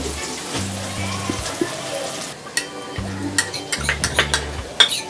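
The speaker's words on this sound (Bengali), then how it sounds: "পেঁয়াজটা আমরা ব্রাউন কালার যতক্ষণ না হচ্ছে ততক্ষণ আমরা ভাজবো" Onions fry until brown in a pan for a Bengali moong dal with rohu fish head, a crackling sizzle broken by scraping stirs and spatula knocks, with a low humming tone underneath.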